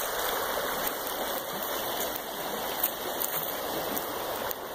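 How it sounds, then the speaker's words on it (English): Steady rushing of creek water flowing continuously, a broad even wash of sound with no voices. "This is the creek in Quiggleville."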